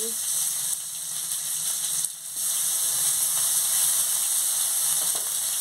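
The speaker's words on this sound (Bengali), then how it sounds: "পেঁয়াজ কুচি দিয়ে দিচ্ছি" Chopped onions sizzle in hot oil with whole spices and dried red chilli for a Bengali mixed-vegetable chorchori, a steady close hiss running throughout with a brief dip midway.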